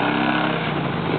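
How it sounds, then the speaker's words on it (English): A hot-running Vincent motorcycle engine idles nearby, a steady, loud mechanical drone with a fine low pulse and no talk over it. "Listen to that performance, so that's a hot running Vincent."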